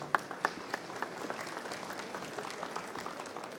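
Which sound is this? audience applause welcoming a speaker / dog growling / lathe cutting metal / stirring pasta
audience applause welcoming a speaker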